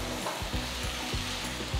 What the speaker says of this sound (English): So at this point you can add the tomatoes.